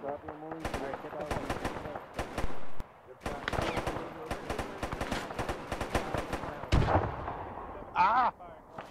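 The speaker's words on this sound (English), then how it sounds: "Drop your mortars." Mortars fire in a World War II battle at Arnhem in a video game, amid dense bursts of machine-gun and artillery fire with heavy booming blasts, while voices are heard beneath.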